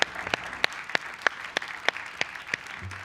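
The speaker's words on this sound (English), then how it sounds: "So let's give them a round of applause." Applause from a film festival audience at a filmmaker forum, a sparse scattering of separate sharp claps at a fairly regular rhythm, moderately faint over room tone.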